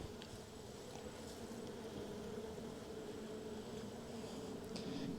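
Honeybees buzz steadily around hive frames being broken down for winter, a soft continuous hum with occasional light handling clicks nearby.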